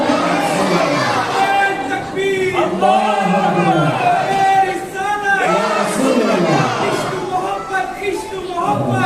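A large crowd at a religious Milad gathering shouts a slogan in unison, in repeated loud swelling bursts answering a leader's call, with voices overlapping throughout.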